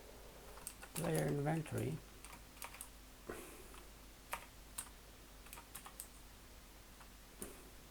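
Typing code on a computer keyboard, with scattered close key clicks at an irregular pace, preceded by a brief stretch of speech.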